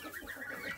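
A rooster clucks briefly and rapidly, close by, with no voices.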